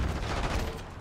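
A gunshot from a gun in Call of Duty Black Ops 6 sounds as a loud, dense burst of firing noise with a booming low end that fills a single second.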